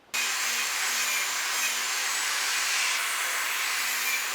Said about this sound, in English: we're gonna circle this piece around and cut it into a circle on the table saw.